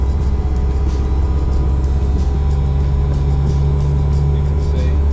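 Car engine droning steadily from inside a rally car on a country road, with a Porsche following close behind; continuous low rumble and road noise throughout, no talking.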